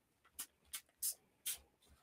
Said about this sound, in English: This distress oxide. All right, so we'll just spray a little on there.